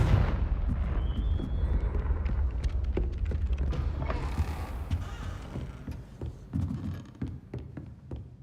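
A Confringo fire spell in the Hogwarts Legacy video game sets off a heavy rumbling blast followed by a scatter of sharp cracks and booms that gradually thin out and fade.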